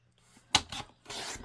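Paper panel for a steampunk lapbook being cut, giving a sharp snip near the start followed by two more rough cutting rasps, close and fairly quiet with no talking.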